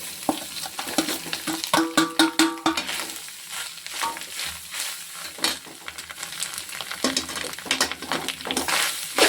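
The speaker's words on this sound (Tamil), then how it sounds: "இதை ஒரு 5 நிமிஷம் நல்லா சூடுபடுற அளவுக்கு வதக்கணும்" Grated coconut sautéed in a pan for coconut rice, with busy close stirring and scraping over a steady sizzle, a brief metallic clatter early on, and no talk.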